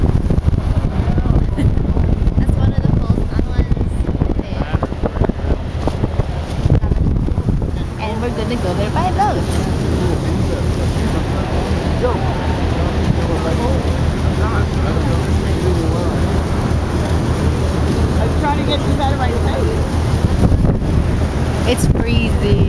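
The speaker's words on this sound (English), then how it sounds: "we're in a boat." Strong wind buffets the microphone aboard a boat out on cold open water, with a steady roar and rushing water and waves beneath, while people talk over it for the whole stretch.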